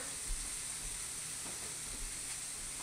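Pot roast browning in a very hot skillet, giving a steady, soft sizzle and hiss of searing meat throughout, fairly quiet and even with no talking.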